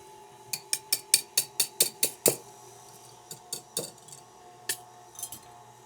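A utensil clinks sharply against a bowl in a quick run of about eight even taps, then a few scattered knocks, while flour mixture is scooped into chocolate cake batter. The sound is close, crisp and quiet, with no voices.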